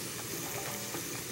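Chicken pieces fry in hot oil with a steady, dense sizzle and crackle, continuous and fairly close, with no voices over it.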